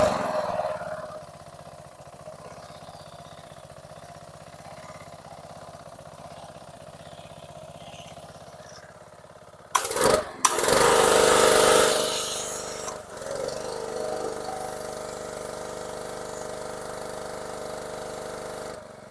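Small Ryobi pressure washer with a Honda GCV160 engine, running at half choke, putters at a steady low idle. Partway through it briefly revs louder and rougher for a few seconds, then drops back to a quieter, unsteady idle.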